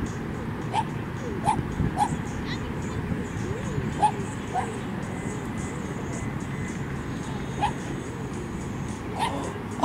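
Short, sharp dog barks repeat irregularly over a steady background rumble during a lightning storm, with a voice talking through much of it.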